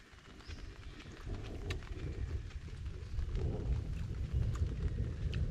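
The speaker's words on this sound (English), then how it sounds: "Managed to get it done before the rain. Here it comes." Steady rain begins pattering down outdoors at an Australian bush camp, a dense broadband hiss that thickens and grows louder over several seconds, with faint distant bird chirps.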